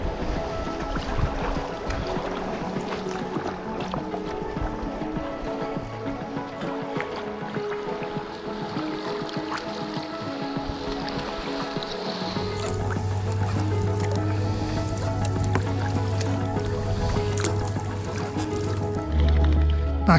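Sea kayak paddling along the Scottish coast off the Isle of Bute near Rothesay, with steady water swishes and splashes under constant wind and engine-like hum, close and fairly loud throughout.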